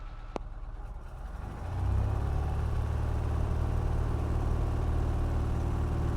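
A light aircraft rolls for takeoff on runway 31, its engine starting as a faint hum and swelling about two seconds in to a steady, louder drone that holds to the end with no talk.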